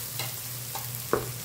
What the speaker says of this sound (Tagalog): Sizzling.